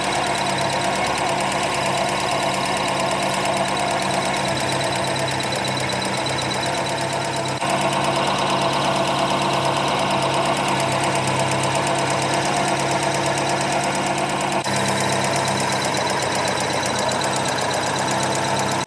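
A Ford Escort Mk1 engine idles steadily for the whole stretch, a dense, even mechanical drone with a faint knocking texture, its revs dropping only very slightly partway through.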